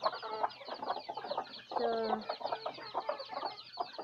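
Chickens in a cage cluck close by in short, uneven bursts with a louder squawk partway through, and a brief spoken word breaks in at the start.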